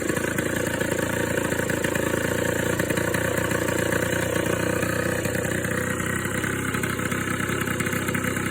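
Rebuilt Suzuki LT80 quad engine idling steadily after the rebuild, a continuous close buzzing single-cylinder putter with no voices, even in level throughout.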